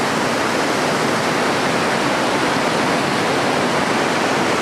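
Rough, rain-swollen waters of the East Lyn River after days of heavy rain, a dense, steady roar of rushing water, loud and close, unbroken for the whole stretch with no voices.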